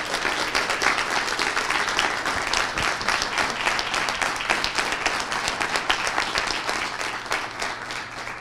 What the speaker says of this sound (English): I want to take a moment for a round of applause for the students who served this breakfast.